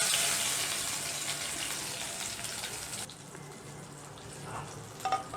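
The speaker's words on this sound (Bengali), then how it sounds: "আরও 1 কাপ জল আমি এতে দিচ্ছি, কারণ বড়িগুলো ভালোভাবে ডুবতে হবে।" Water gushes into a pan of spiced lentil-dumpling curry in mustard sauce, a loud steady pour for about three seconds before it cuts off and leaves a faint simmer.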